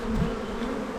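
Honey bees buzzing close around a hive frame during swarming preparations, a dense steady hum filling the whole moment without any voices.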